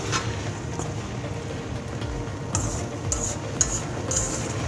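Sauce being stirred and mixed into egg fried rice with mixed vegetables in a pan, a steady soft scraping and rustling with a few light clinks of a utensil against the pan, fairly close.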